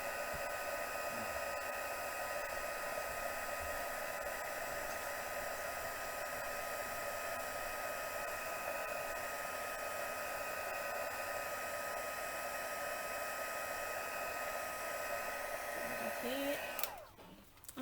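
A heat tool running on its second setting to melt embossing powder, a constant loud whooshing blower hum that holds steady for most of the clip before cutting off near the end.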